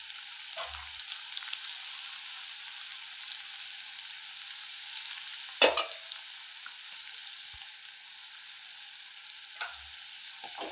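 Cauliflower pakoda frying in hot oil gives a soft steady bubbling sizzle, with a few sharp clinks and scrapes of a utensil scattered through.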